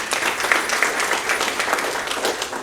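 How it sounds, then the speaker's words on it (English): Applause from an audience at an all-associate company meeting, a steady dense wash of many hands clapping at close range that fills the whole moment without a break. "Also, big round of applause for everybody."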